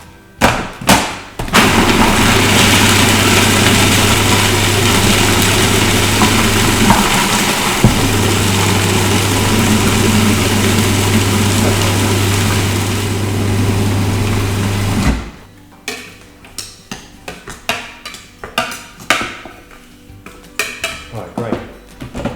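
A food processor grinds a raw pumpkin pie base, its loud, steady motor whirring and rattling for about thirteen seconds with one brief dip, then stopping, followed by scattered clunks and scraping of the bowl and lid.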